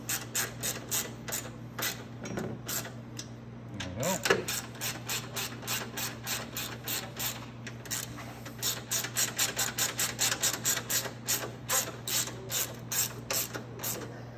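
Nuts being tightened down on the gas tank of a Venom Mini Jeep 125cc, giving a steady run of close, rhythmic ratcheting clicks over a constant low hum, with a brief rub midway.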